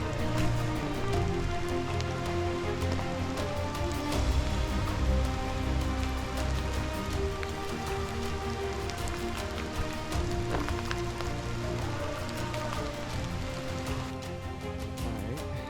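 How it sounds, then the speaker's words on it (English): Rain falling steadily on a wet outdoor hiking trail in a watershed, a continuous dense patter of drops on surfaces with no talking. "It's nice when it's raining."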